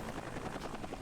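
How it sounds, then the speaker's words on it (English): A helicopter in the video game Entropia Universe produces a steady, rapid rotor thumping with a whooshing engine wash, continuous and moderately close, with no voices. "That's a helicopter right there."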